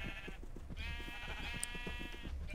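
Sheep in a video game bleat in a couple of long, wavering cries that overlap one another, heard above a faint patter of low thumps.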